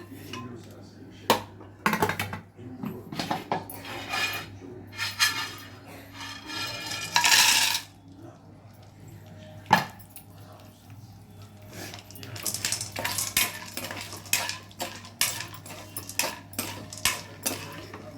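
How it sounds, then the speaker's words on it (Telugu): Gond crackles in ghee while a metal spoon clinks and scrapes around the pan in irregular bursts, a louder stretch of sizzling midway, with quiet gaps between the stirring strokes. "ఆ నెయ్యిలోనే కొంచెం గోందు ఫ్రై చేయాలి"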